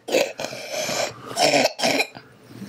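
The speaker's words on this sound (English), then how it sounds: "You get the coughs." Several harsh, throaty coughs in quick bursts, close and fairly loud, separated by short pauses.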